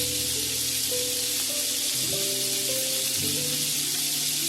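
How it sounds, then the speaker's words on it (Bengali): Steady, loud sizzling of sheek kebab frying in a hot pan on an electric stove, a continuous bright crackle with occasional faint tonal clinks underneath. "এভাবে ফ্রাই প্যানে কাবাব তৈরি করতে পারি"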